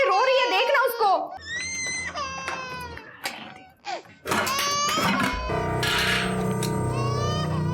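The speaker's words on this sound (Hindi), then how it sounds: "बच्चा रो रही है।" A young child cries loudly and close by, in sobbing, wailing bursts broken by short pauses, with adult voices speaking in a home setting.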